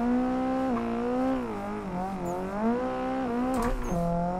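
A Nissan S13 doing donuts around a house on a compound, its engine holding a steady, wavering drone as revs rise and dip through the circles, close and continuous.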